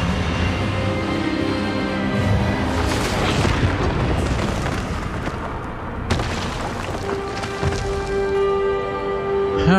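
An Expelliarmus spell blast from Hogwarts Legacy erupts as a loud, booming burst with a rolling rumble. A second forceful surge follows a few seconds later over a sustained tonal backdrop.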